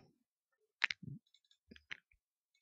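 Several crisp computer mouse clicks land close together and then a couple more follow after a short gap, sharp and near in an otherwise quiet room with no talking.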